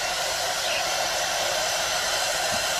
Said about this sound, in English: those creases, we now again use the hairdryer